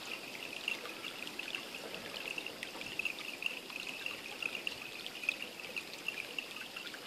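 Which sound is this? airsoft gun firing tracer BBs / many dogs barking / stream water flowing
stream water flowing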